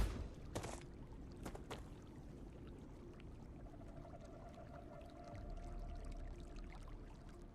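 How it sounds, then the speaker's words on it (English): Running water in the StarRupture video game, a faint steady rushing wash that continues throughout, with a couple of brief clicks near the start and a low hum entering later. "I think it's the water I'm hearing"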